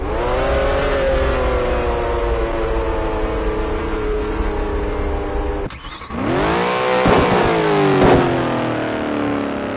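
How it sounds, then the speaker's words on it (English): A loud car engine in the Roblox game Taxi Boss revs high and holds, drops briefly, then roars back up with crackling exhaust, harsh and close. "It has an exhaust sound so loud you think you are in the front line during D-Day 1944."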